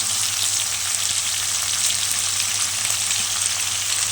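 Steady, continuous sizzling of onions frying in a pan, a dense hiss that stays even throughout with no talking.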